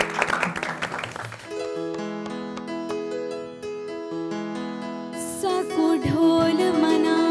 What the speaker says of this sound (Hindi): उशना के लिए बहुत सारी तालियां।